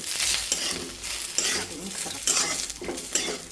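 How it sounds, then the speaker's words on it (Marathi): Onion and coconut sizzle and fry in oil in a pan while a ladle stirs and scrapes through them, a steady busy crackle with scraping strokes for a few seconds, close up and alone. "छोटी पळी तेल घालून व्यवस्थित सर्व परतून घ्यावी"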